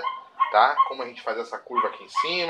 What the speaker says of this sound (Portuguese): Desculpa o cachorro latindo aí